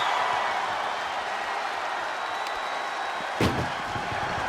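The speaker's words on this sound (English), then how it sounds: "Tossed into the ambulance. Shut the door and this match is over." In the WWE 2K25 video game, an ambulance door slams shut once, a sharp loud bang midway through the clip over a steady crowd roar.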